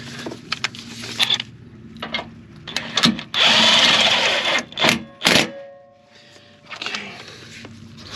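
A power tool whirs in several short bursts and one longer run while working a bolt on a 2020 Jeep Gladiator Rubicon transfer case, with clanks and handling noises between, close by and no talk.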